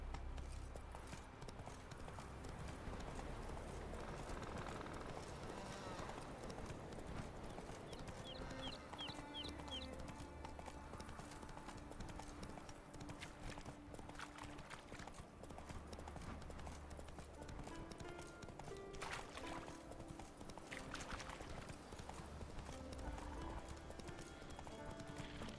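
Roach the horse gallops in The Witcher 3 video game, a long run of rhythmic clip-clop hoofbeats beneath quiet game ambience, with a faint whinny partway through.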